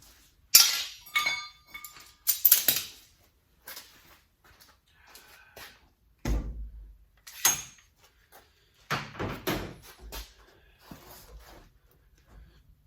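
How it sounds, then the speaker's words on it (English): A fiberglass door, freshly unclamped, is opened and swung to test the fit, giving scattered knocks, thuds and clinking hardware rattles in irregular bursts with quiet gaps between them, nearby and moderately loud. "I'm going to pull all the stuff off the door and give her a try."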